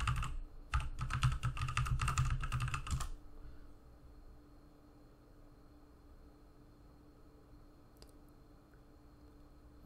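Fast, dense keystrokes on a computer keyboard rattle close and loud for about three seconds, then stop, leaving a quiet room hum with a single faint click later on.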